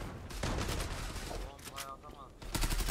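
Rapid bursts of automatic gunfire ring out in the online shooter Zula, dense and continuous, mixed with excited talk from players.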